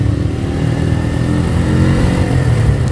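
A Benelli Motobi 152 motorcycle with an overbored engine revs loudly and close by, a steady, unbroken drone throughout that feels sluggish at low revs.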